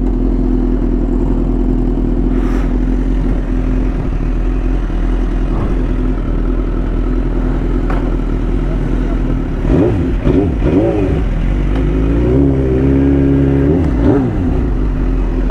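A newly bought motorcycle's engine idles steadily and close by, then revs up several times in a row near the end, with some mechanical clatter.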